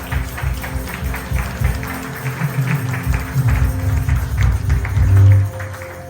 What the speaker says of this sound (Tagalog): At lahat tayo pumalakpak sa Lord.